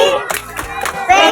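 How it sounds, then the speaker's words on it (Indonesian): Audience performing a salute clap, a few sharp, close claps in a quick patterned rhythm, each one a crisp burst, with a voice briefly heard between them. "Tepuk salut."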